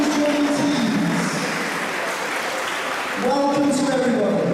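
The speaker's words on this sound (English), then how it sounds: "give a very round of applause" Audience applause at a school swimming opening ceremony, a steady wash of clapping from a crowd, with a voice speaking over it near the end.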